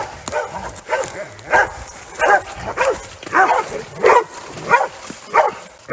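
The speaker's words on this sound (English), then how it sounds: "the dogs are talking to the hog" Hunting dogs tracking a wild hog in central Louisiana bay and yip in a rhythmic series of about nine barks, close and loud, with some whimpering between.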